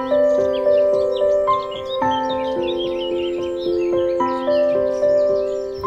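Several birds sing at once, clear tonal whistles and warbling phrases overlapping continuously at Moston Fairway nature reserve in Manchester, an open outdoor space, with no talking.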